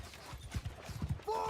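Cavalry horses' hooves drum in a Bannerlord battle, a quick run of muffled galloping thuds at mid distance, ending with a brief tonal call.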